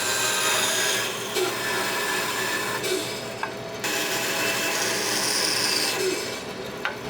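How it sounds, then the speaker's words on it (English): A bandsaw cuts out wooden longbow pieces in a workshop, giving a steady, loud rasping buzz of blade through wood that runs the whole time, with brief dips and small clicks as the cut shifts. "So now we'll just go over to the bandsaw and cut those out."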